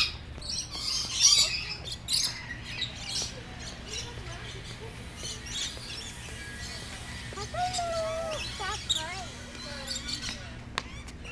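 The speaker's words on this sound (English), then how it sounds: "They're just birdies. They're birds. See the birdies?" Birds at the Aquarium of the Pacific give scattered chirps and squawks, some nearby and some farther off, over a busy indoor murmur and low hum.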